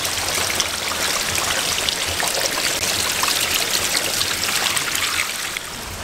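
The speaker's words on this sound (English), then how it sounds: "Now I'm actually behind the waterfall." Steady broadband rush of a waterfall heard from behind the falling water in winter, loud and close, continuous throughout with no voices.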